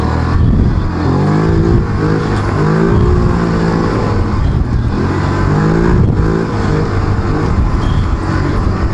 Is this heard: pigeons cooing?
no